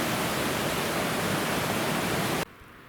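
A small mountain creek at about 9,000 feet flows steadily at a crossing near campsites, a close, loud, even rush of water that cuts off abruptly near the end.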